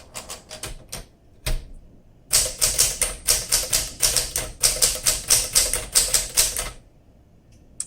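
A seafoam green 1961 Smith Corona Sterling manual typewriter is typed on up close, a few scattered keystrokes followed by a steady, rapid run of crisp clacks, then a pause and a final strike.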